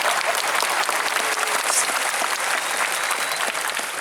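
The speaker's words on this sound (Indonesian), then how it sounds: "Umar, ayo tepuk tangan dulu." A large audience at an Islamic lecture bursts into sustained applause, loud dense clapping that holds steady throughout with no talk over it.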